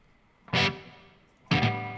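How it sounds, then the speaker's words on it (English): Two loud bursts of heavily distorted electric music, each struck hard and ringing out with a gritty, buzzing sustain that fades slowly. The second burst follows about a second after the first. "Distortion effect."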